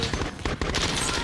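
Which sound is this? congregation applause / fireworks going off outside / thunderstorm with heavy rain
fireworks going off outside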